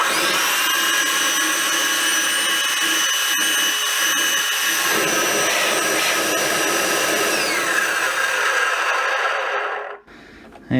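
A repaired Milwaukee M18 cordless wet/dry vacuum runs with its fan connected, giving a loud, steady motor whine and rushing airflow that holds for about ten seconds before abruptly cutting off.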